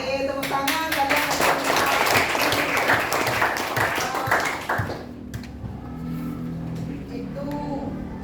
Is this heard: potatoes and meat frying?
no